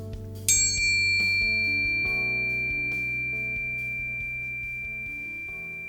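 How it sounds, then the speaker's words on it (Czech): Therapeutic tuning forks tapped together at their edges give one bright metallic strike, then a clear, pure ringing tone with shimmering overtones that sustains evenly and slowly fades over several seconds, with a few soft touches along the way. "Jemně udeříme hranami ladiček o sebe"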